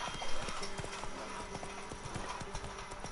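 Horse hooves clip-clop in a video game with a steady, rhythmic trot of clear hoofbeats that continues throughout, close and moderately loud, with a brief whinny-like sound early on.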